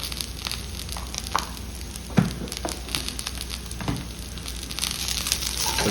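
Spinach, tomato and onion for a chutney sizzle in a pan, a steady broadband frying hiss with occasional crackles and a few louder pops, close and continuous with no talk.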